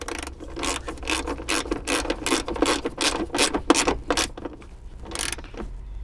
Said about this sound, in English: I can go ahead and use the ratchet.